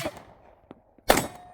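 A single sharp gunshot cracks at an outdoor shooting range after a moment of near quiet, with a short ringing tail.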